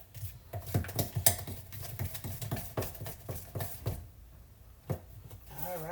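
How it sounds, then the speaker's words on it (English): Carrot cake batter being mixed by hand in a bowl, a steady run of soft knocks and scrapes of utensil against the bowl, fairly close and uneven in rhythm, then a brief pause before a voice speaks at the end. "Mix it up."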